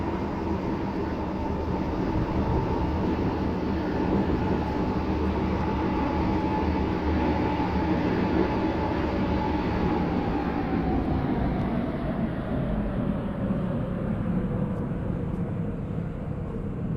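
A Waterline Class 730 train in the Roblox game Stepford County Railway pulls into Greenslade station, a loud, steady rumbling drone whose pitch slowly falls as it slows to a stop, with no talk.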